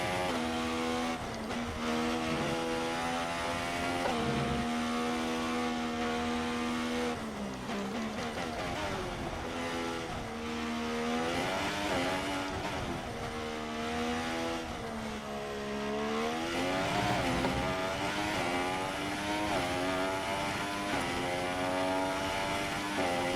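A Formula 1 car in the F1 2016 video game screams through repeated upshifts, its engine pitch climbing and dropping in a continuous loud run through the gears up to eighth with DRS open.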